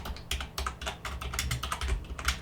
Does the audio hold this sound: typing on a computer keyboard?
yes